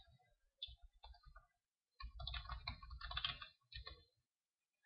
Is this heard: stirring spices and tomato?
no